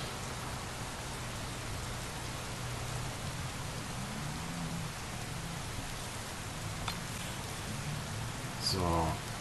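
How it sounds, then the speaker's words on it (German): Steady rain hiss fills the scene in Bus Simulator 21, with a low rumbling background and a brief tonal burst near the end. "So, Regenwetter. Das ist natürlich super toll, dass es regnet."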